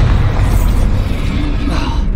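A Bombarda spell explosion in the video game Hogwarts Legacy, a loud, deep booming rumble filling the moment with heavy low-end blast noise.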